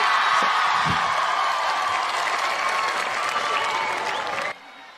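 An audience at a Hindi poetry recital claps loudly and steadily for several seconds, with a few whoops mixed in, before the clapping cuts off abruptly near the end.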